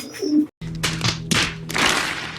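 Soft low cooing from racing pigeons in a loft, broken up by a few thumps and rustles nearby.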